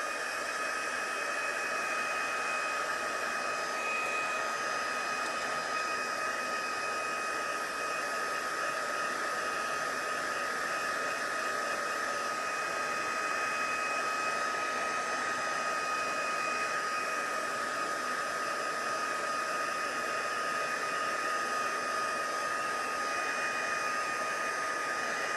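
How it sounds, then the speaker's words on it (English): A small handheld heat tool for drying wet paint on a craft door tag blows a steady, loud whooshing hiss of air, continuous and unchanging for the whole stretch with no talking. "I'm gonna just grab my little heat tool here. I'm just gonna dry this up a little bit."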